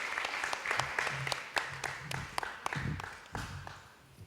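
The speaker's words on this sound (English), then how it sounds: "welcome our chief guest and all our honorable guests, distinguished guests, families and friends with a huge round of applause" Steady applause from a crowd at a school renaming ceremony in Suva, Fiji, with sharp individual claps standing out through the four seconds, fairly close and moderately loud.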